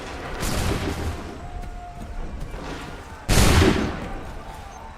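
Musket volley fire in Assassin's Creed 3, a ragged crackle of many shots early on followed by a louder, sharper massed volley near the end, with battlefield noise and shouted commands around it.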